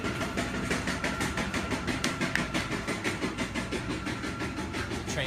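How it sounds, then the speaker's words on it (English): A train rolls past with a steady rhythmic clickety-clack of wheels on rail joints and a constant rumble, fairly close and loud throughout. "train passes by."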